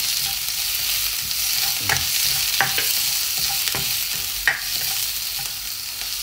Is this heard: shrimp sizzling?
yes